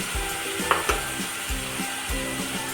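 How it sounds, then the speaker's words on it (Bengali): A ginger garlic gravy fries in a pan, giving a continuous sizzle under a low, rhythmic tonal hum and some soft stirring sounds, close and moderately loud. "একটুখানি ভালো করে ভেজে নেব গ্রেভিটা"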